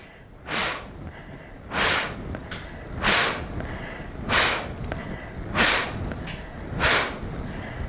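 Forceful kapalabhati yoga exhales come as six sharp, breathy bursts through the nose, evenly spaced about a second and a quarter apart, each one close and distinct against a low background.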